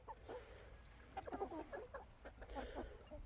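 Chickens, hens and roosters, cluck in soft, scattered bursts, faint and close-miked, against a low background hum with no talking.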